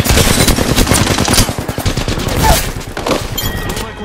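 Rapid automatic gunfire in Apex Legends, loud and continuous bursts of closely spaced shots for several seconds, with a few heavier impacts near the end and no voices.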